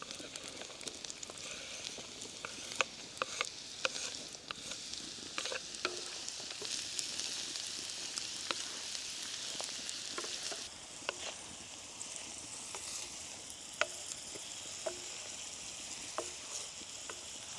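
Mushrooms sizzle steadily in a frying pan with a dense crackling hiss, broken by scattered sharper pops and a few stirring clicks throughout.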